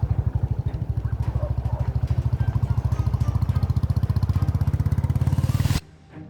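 A motorcycle engine thrums steadily and close on a mountain road in Kashmir, a loud even pulsing drone that cuts off abruptly near the end.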